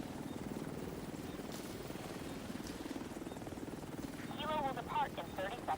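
Helicopter rotor chopping steadily in a video game, a continuous low throbbing drone throughout with wind-like noise, while a voice talks over it near the end.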